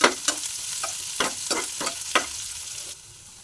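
Chopped onions sizzle in a hot pan while being stirred, with several scraping strokes in a loose rhythm and a steady frying hiss underneath.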